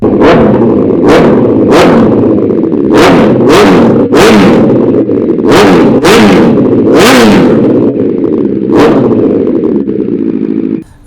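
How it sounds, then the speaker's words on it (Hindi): A Honda CBR 1000 motorcycle engine idles loudly and close up, with a series of sharp throttle revs rising and falling roughly every second, no voices. "अब आपको इसका साउंड टेस्ट करवाते हैं"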